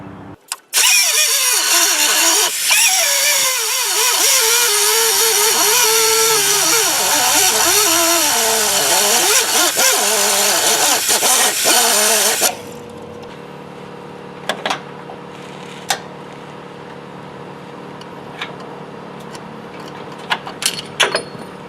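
A cutting power tool, likely a grinder, slices metal on a project car, running loud and steady for about twelve seconds before stopping abruptly, leaving a quieter background with a few faint clanks.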